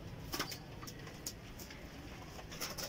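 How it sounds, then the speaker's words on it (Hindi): Pigeons in a loft, a black-faced Sheikho kabootar among the flying pigeons, give soft low coos with brief sharper calls scattered across the clip, faint against a steady background hiss. "ये शेखो वाला कबूतर है"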